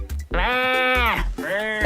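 A man imitating a cow with his voice, producing two long drawn-out lowing calls, loud and close, the first longer than the second.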